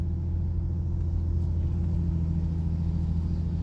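Chevrolet El Camino engine rumbling nearby, a steady low throaty drone at moderate loudness with no voices over it.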